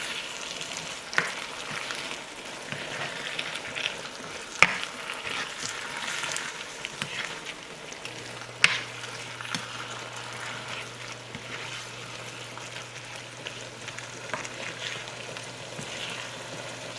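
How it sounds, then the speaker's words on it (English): Ratatouille vegetables simmer in a pan, giving a steady soft sizzle and bubbling with occasional clicks and knocks of a utensil, close and continuous. "Now we will let it simmer until all cooked, tender and cooked."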